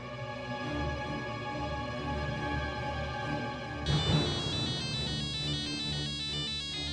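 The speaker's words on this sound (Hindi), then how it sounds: "रानो का फोन है।" A phone ringtone in a Hindi TV serial plays a repeating melodic tune, shifting to a brighter, busier pattern partway through; clear and steady with no talking.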